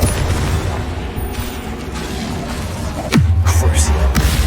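A booming fire-spell explosion goes off in a fantasy wizard game, one sharp thud followed by a low rumbling tail, after a stretch of busy combat noise.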